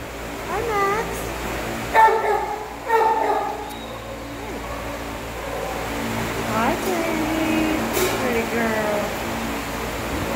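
Dogs in kennels at an animal shelter, several short barks and yips at moderate distance over a constant air-conditioning hum, with a person talking in between.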